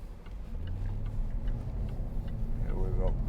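A 2012 Jaguar XK Portfolio with a 5.0 V8 accelerating on the road, its steady low engine rumble droning throughout from inside the cabin, with a brief voice near the end.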